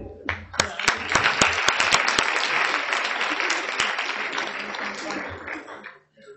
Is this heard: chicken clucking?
no